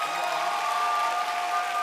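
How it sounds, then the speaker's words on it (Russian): Audience applause for a team at a children's comedy quiz show, a steady wash of clapping throughout with no break. "Аплодисменты Пятигорску."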